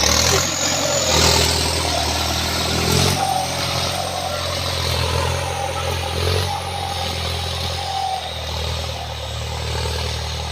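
A loud engine runs steadily with rough, heavy rumbling, surging a few times as it revs, with no talking over it.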